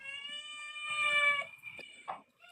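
A domestic cat meows with a sustained, tonal call, close and fairly quiet, followed by a few shorter softer mews.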